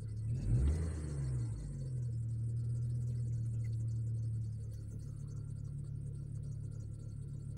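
Pickup truck engine idling just after start-up, a steady low rumble with a brief rev near the start that settles into a continuous even drone, close and fairly loud, with no talk over it.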